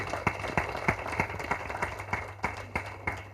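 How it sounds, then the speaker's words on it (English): Audience at an Indian women's convention and awards event applauds with sharp, regular claps in a quiet, moderately distant rhythm, with a low hum underneath. "give a huge round of applause to each one of you"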